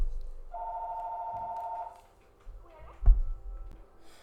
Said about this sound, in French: il y avait le téléphone qui sonnait